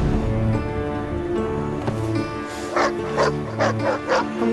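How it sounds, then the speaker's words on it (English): Dog barking in the Mad Max video game, a series of sharp, evenly spaced barks in the second half over a steady music and ambience bed. "Do I get to keep this dog? Easy, dog. Don't bite."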